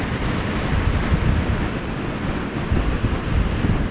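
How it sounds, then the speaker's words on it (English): Ocean surf at Nagtabon beach in the Philippines rumbles as a constant low roar of breaking waves, mixed with gusty wind buffeting the microphone. "The ocean back there."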